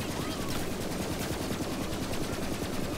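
Sustained rapid automatic gunfire from the Borderlands 3 shooter, dense and loud throughout with crackling bursts layered over each other and no pauses.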